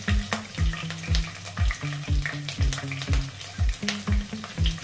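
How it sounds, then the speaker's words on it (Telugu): Green chillies fry in about three tablespoons of hot oil in a kadai, giving a steady close sizzle broken by repeated rhythmic scraping and stirring knocks, with no talking. "దానిలో పచ్చిమిర్చి వేస్తున్నాను."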